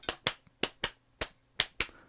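Hands slap on the legs in a rhythmic clapping-music pattern, seven sharp, close, dry claps in an uneven repeating rhythm with short silences between them, no talking.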